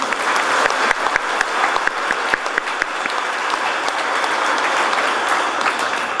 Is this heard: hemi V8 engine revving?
no